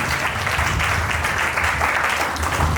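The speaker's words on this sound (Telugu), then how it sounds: "అందరూ చప్పట్లు ఒకసారి" A church congregation claps together during Sunday worship, a dense, even wash of applause that fills the space steadily from start to finish, loud and unbroken.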